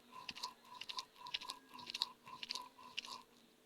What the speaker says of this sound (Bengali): তো এই তো আমি কিন্তু ভর্তাগুলো বেটে নিচ্ছি।